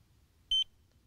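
A Delkim Plus carp fishing bite alarm gives a single short electronic beep, triggered by slight line movement, clear against quiet outdoor background.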